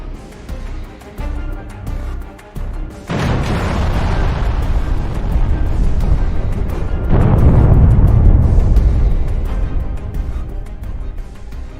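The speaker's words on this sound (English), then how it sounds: "They deployed a Su-34 aircraft equipped with heavy glide bombs FAB-250 and began bombing the border checkpoint on their territory." Heavy FAB-250 glide bombs dropped from a Su-34 exploding on a border checkpoint in war footage, two loud deep booming blasts a few seconds apart, each followed by a long rumbling roar.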